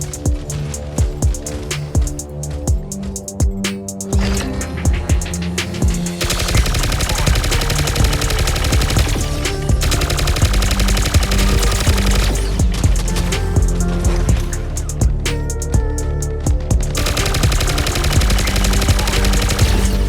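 Mech Arena match with heavy mechs firing, dense rapid machine-gun bursts rattling continuously over a loud booming game soundtrack, sustained and close for the whole stretch without pause.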